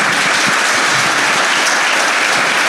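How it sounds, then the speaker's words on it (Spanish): Loud, close audience applause fills the room for Argentine tennis player Juan Martín del Potro during an intimate talk event, a continuous dense burst of clapping. "Un aplauso grande para Juan Martín del Potro."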